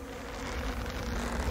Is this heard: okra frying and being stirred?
no